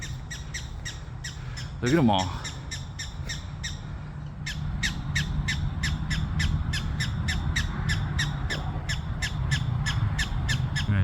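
Repeated sharp chirps from gophers in a natural grassy area beside a disc golf course in Fort Collins, Colorado, a steady rapid series of calls at moderate distance, with a man's brief remark and a harsher squawk early on.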